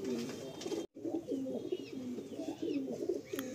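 Madrasi pigeons coo in soft, repeated throaty rolls close by, a continuous low burbling with a brief break near the start.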